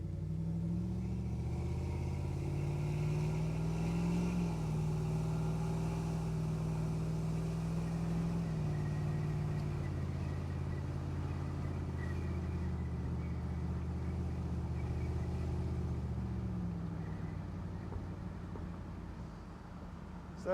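A steady, low engine drone of a 1997 Dodge Ram pickup truck cruising along a road, holding an even pitch before easing off near the end.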